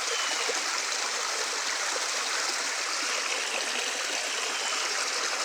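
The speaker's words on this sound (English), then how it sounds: "Get some running water." Running water of a stream in a New York park flows steadily and close, a continuous broad rush with bright splashing texture and no talk.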